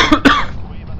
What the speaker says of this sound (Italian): è inutile, non passerà mai questa tosse qui